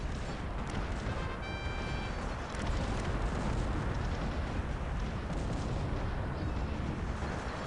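Cannons fire during a strategy video game battle, dense rolling booms and blasts overlapping continuously in a loud, crowded mix.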